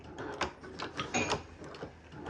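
Sewing machine stitching a sneaker, a short run of quick mechanical clatter with uneven needle strokes, close and moderately quiet, with no one talking.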